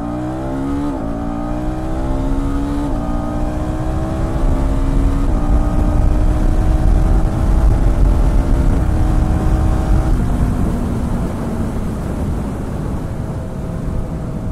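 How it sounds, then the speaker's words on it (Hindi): A KTM Duke 250 motorcycle accelerates hard from close by, its engine note climbing and dropping sharply as the quickshifter snaps through several successive gear changes. "इसका क्विक शिफ्टर कितना अच्छे से काम करता है वो भी आपको दिखा देता हूँ।"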